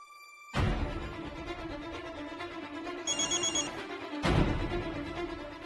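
A telephone rings while a call is being placed, repeated ring bursts close and clear, separated by short gaps, with no talking.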